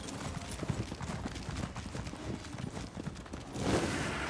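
Horse hooves clip-clop steadily in Elder Scrolls Online, a continuous ride of even footfalls at moderate level with no talk over it.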